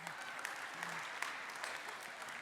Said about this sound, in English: Yeah, you're clapping.